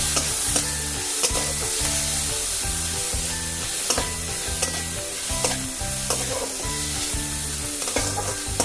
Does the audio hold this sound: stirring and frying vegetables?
yes